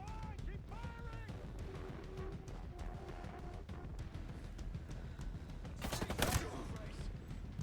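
Gunfire in the video game Ghost Recon Breakpoint: quiet, scattered shots building to a louder burst near the end, mixed with in-game voices.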